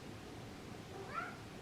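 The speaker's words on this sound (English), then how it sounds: "my cat." A domestic cat gives a single brief meow partway through, fairly faint over steady indoor background noise, with no talking.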